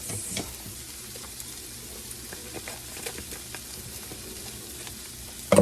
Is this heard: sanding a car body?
no